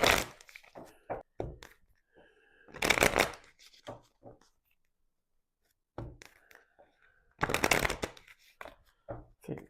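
A deck of tarot cards is shuffled in several quick riffling bursts separated by short pauses, close and crisp, with a few soft taps and a quiet voice between them.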